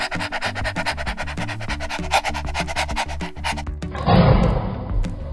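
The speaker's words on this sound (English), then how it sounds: "Lion." A lion's roar bursts out loudly near the end, a short, rough growling blast over a steady rhythmic music bed that plays throughout.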